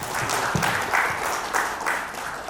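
Brief burst of audience clapping at a company dealer meet, a moderately dense round of applause heard up close for a couple of seconds.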